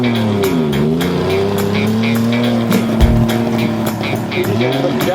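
A Suzuki LJ50 with a two-stroke engine, running again after five years and lacking brakes, drives on a test run with a steady buzzing engine drone whose pitch dips and climbs, close and fairly loud, with occasional clicks and knocks.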